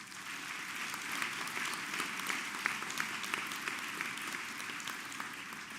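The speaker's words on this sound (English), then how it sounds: "So give yourselves a round of applause." Graduates applaud at a commencement ceremony, a dense, sustained roar of many hands clapping with scattered sharp individual claps, continuous and even throughout.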